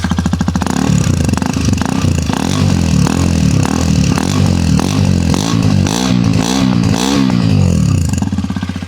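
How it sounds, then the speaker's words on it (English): A Hero Xpulse 210 motorcycle engine revs hard several times, its deep, throaty exhaust rising and falling in loud, rhythmic bursts close by. "Here the exhaust note of the motorcycle."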